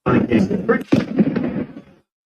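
A gunshot from a played news or video clip of a shooting event, a sharp loud crack near one second cutting through a voice that keeps talking before and after it.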